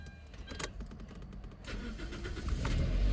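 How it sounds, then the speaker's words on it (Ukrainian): A 2003 Toyota Avensis engine cranks briefly and catches, settling into a low idle that grows steadier and louder, preceded by light clicking. "Заводиться дуже добре."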